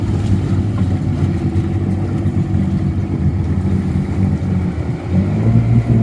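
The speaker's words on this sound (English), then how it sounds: "I'm spinning my tires. No, it ain't moving. Now it is." A Yamaha YXZ1000R side-by-side churns through a deep canal at night, its engine droning and revving loudly and steadily as the tires spin in water and mud, close and continuous with no talk.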